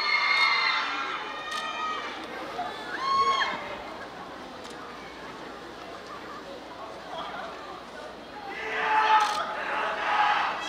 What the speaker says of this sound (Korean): 김희애 씨에게 뜨거운 박수 부탁드리겠습니다.